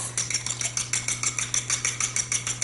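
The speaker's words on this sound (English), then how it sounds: "Let me whisk together my 4 eggs" Four eggs whisked by hand in a bowl, a quick, steady rhythm of light metallic taps under a faint constant hum.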